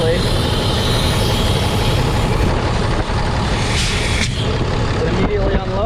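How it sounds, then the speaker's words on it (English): On a Ford F750 truck, compressed air hisses steadily from the governor unload line as a loud, continuous broadband rush, with a low engine idle underneath and a few faint clicks near the end. "we're getting air out of the governor on the unload line"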